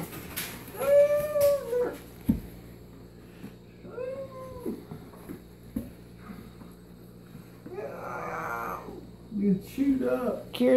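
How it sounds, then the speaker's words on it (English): Puppies at 7-8 weeks old play together, giving high whimpers, whines and small yelps in short bursts against a quiet indoor background, with occasional thumps and a person talking. "This is our puppy attack."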